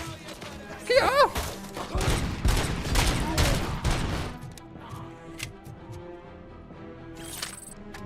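A 9mm pistol fires in the video game Robocop: Rogue City, with a rapid volley of shots and impacts over the first few seconds, then quieter game ambience, with someone talking over it.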